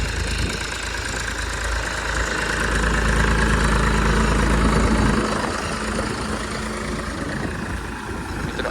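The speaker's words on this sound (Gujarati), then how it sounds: "ટ્રેક્ટર આવી રહ્યું છે મિત્રો" A tractor engine runs steadily in a cotton field during fertilizer sowing and furrow ridging, a loud, continuous low rumble that swells slightly midway and holds without pause.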